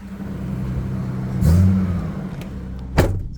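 A Toyota Land Cruiser FZJ80 engine runs at a steady idle, close and fairly smooth, with a brief rise in revs midway and a sharp knock or click near the end.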